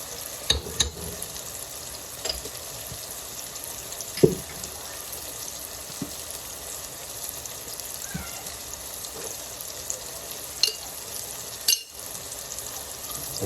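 Spices including garam masala and kalonji frying in a pan, a soft continuous sizzle with occasional sharp pops and spoon clinks scattered throughout, close and fairly quiet.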